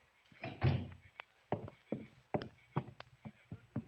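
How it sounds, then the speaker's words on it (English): A door shut as a sound effect in a 1940s old-time radio mystery drama: a firm thump followed by several softer knocks and clicks, close and fairly quiet. "Doris, shut the door."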